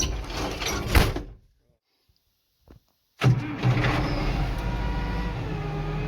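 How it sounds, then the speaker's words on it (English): An International Harvester 3588 tractor with a freshly rebuilt engine cranks and fires, a loud rumble cutting off into near silence, then a sharp restart settling into a steady close idle. "Amazing how she just pops right off with a fresh engine in it, huh?"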